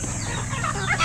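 Gamecock chickens cluck at feeding time, a dense, loud chorus of overlapping hen-like calls over constant background noise.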